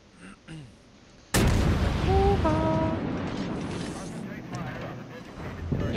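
A sudden loud warship gun salvo in World of Warships, fired at the cruiser Kuma, booms out and rumbles on for several seconds, with quieter voice and game chatter before and under it.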